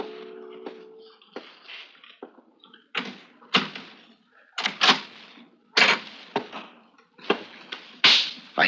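A radio drama sound effect of someone at the door: a series of sharp knocking and rattling taps in uneven bursts, fairly close and distinct against near silence.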